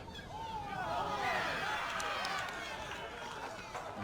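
Spectators at a schoolboy rugby league match raise a loud, swelling crowd roar with overlapping shouts and cheers that rise and then settle, with commentary running over it.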